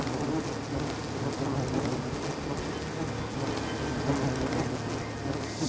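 Wild bees buzz around an old, dark honeycomb exposed inside a tree hollow: a dense, continuous hum fills the whole stretch, close and steady, with no talking.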